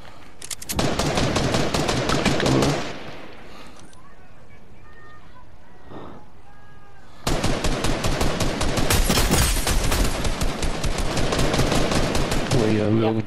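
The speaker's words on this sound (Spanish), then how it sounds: "Güey, había un chingo de disparos." Rapid automatic weapon fire in the Fortnite video game, two long dense bursts of gunshots separated by a quieter stretch with faint game sounds, loud and close.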